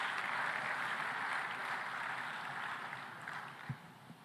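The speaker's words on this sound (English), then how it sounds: "May I ask you to give a big round of applause to the young people in the room" Applause from a conference audience at an African food systems forum in Tanzania, a steady broadband patter that holds then fades toward the end, heard from within the hall.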